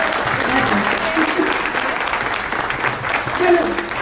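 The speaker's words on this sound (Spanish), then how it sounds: "te aplaudimos" Audience applauding author Gloria Álvarez at her book presentation, a full burst of clapping from the room, loud and sustained, with some voices mixed in.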